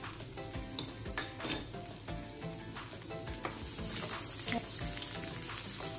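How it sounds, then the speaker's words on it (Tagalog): Onion frying in hot cooking oil for a tomato and egg dish with coriander: a busy, crackling sizzle with repeated stirring scrapes and clinks of a utensil against the pan, close and continuous, no talking. "Mainit na po yung mantika. Ilagay na natin ang sibuyas."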